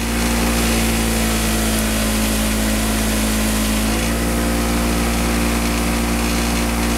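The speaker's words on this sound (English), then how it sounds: "wire brush the threads" A motorized wire brush scrubs the rust off steel bolt threads, giving a steady, loud, continuous whir with a slight shift in pitch midway and no talk.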